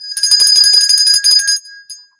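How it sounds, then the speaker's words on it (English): A string of seven lucky bells meant to chase away evil spirits rings loudly with a bright, shimmering jangle for about a second and a half, then fades out with one last short ring. "7 lucky bells to chase away the evil spirits."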